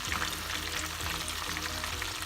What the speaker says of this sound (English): I'm still frying the rest of the potato